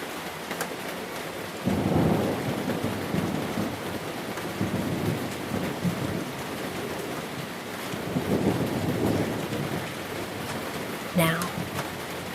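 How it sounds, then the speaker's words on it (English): Steady rain pours down over a distant thunderstorm. Low rumbles of thunder swell and fade twice under the constant hiss of falling drops, while a calm voice speaks softly over the storm. "The rain keeps its slow rhythm above you."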